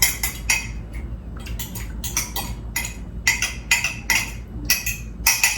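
A spoon scrapes and clinks against a pot as dry homemade seasoning is stirred through cooked rice, in repeated bursts of metallic scraping with short pauses between, close and fairly loud.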